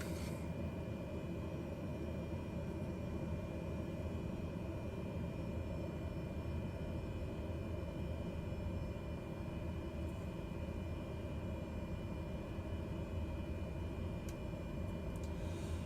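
Black Square Grand Caravan turboprop taxiing in a flight simulator game, a steady, low engine drone and propeller hum that holds unchanged throughout, with no voices.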